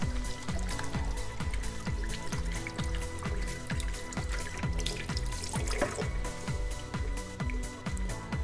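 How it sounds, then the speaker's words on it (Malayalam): Hands being washed under a running water tap after rubbing with toothpaste, a steady close splashing stream with rhythmic patters as the hands move through the flow. "എന്നിട്ട് നിങ്ങളൊന്നും കൈ കഴുകുക."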